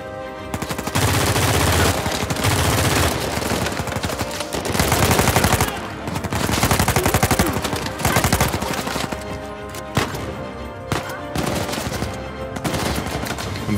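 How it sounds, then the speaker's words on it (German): Rapid bursts of gunfire in Uncharted 4 crackle almost continuously, dense automatic volleys with short gaps, loud and close throughout. "Von wo sind die Schüsse?"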